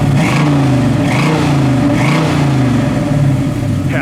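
A 1971 Chevrolet Nova SS V8 revs loud and close outside the car, rising and falling in repeated throttle blips over a steady rumbling idle.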